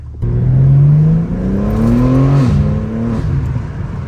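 A BMW M5 F90's engine is revved while stationary, its pitch climbing steadily toward the limiter, then briefly dipping and holding high before easing off. Loud and close, with no talking.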